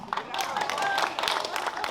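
Crowd applause at a ceremony marking the 150th anniversary of the first train's arrival in Olsztyn, steady moderate clapping from many hands, with a voice talking over it.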